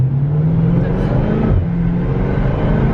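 A Jeep SUV engine with a stock exhaust revs steadily with a thin, mild exhaust note, its pitch rising and dipping briefly midway, loud and close.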